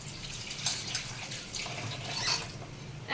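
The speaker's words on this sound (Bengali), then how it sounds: "এই যে এখানে আমি মাছগুলো নামে ধুয়ে নিতেছি কাটার জন্য।" Water runs and splashes at a sink while fish are washed for cutting, an uneven close trickling with bursts of splashing and dripping, and no talking.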